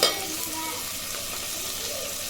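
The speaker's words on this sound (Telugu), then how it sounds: "ఫ్రై చేసుకుని కొంచెం లైట్ గోల్డెన్ కలర్ వచ్చేది వరకు ఫ్రై చేసుకున్నాం" Onions fry in a pan toward a light golden color, a steady close sizzle throughout with little variation after a brief knock at the start.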